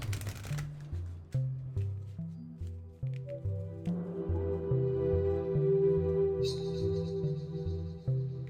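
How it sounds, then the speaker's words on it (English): Oracle cards are shuffled by hand, with repeated riffling and flicking bursts in an uneven rhythm, close and clear over a low steady background drone. "It's been like quite a while since I've shuffled on camera"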